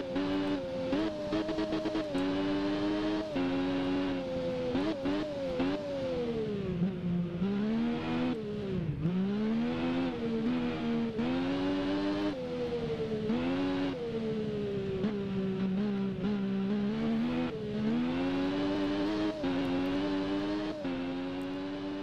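A three-cylinder Triumph Daytona 675 motorcycle in the racing game Ride, its engine revving and whining steadily through rising gear changes, loud and continuous with no talk.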